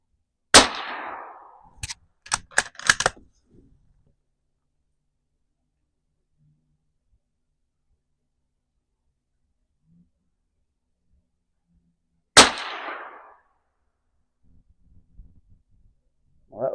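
A Marlin 25N rifle fires 30-grain Maxi Mag HP Plus V rounds: a loud, close crack followed by quick metallic clanks and clicks, a long quiet pause, then a second sharp shot.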